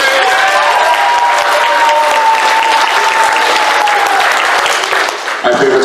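A convention crowd claps loudly for hating pineapple on pizza, a dense, steady roar of applause with a cheer rising partway through, then dropping off sharply near the end.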